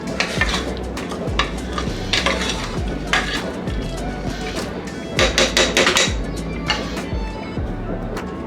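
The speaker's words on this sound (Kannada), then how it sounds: "ಇದೇ ರೀತಿಯೇ ಎಣ್ಣೆಯಲ್ಲಿ ಫ್ರೈ ಮಾಡ್ಕೋಬೇಕು" Chutney paste frying in oil for chutney pulao is stirred with a metal spoon, producing a steady low sizzle and a regular series of clanking scrapes against the pan about once a second, close and clear.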